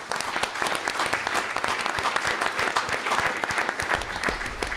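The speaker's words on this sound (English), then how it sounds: "let's give them a round of applause" At a county board of education meeting, people applaud FFA students with a steady burst of clapping of moderate loudness, continuous across the whole stretch and easing slightly at the close.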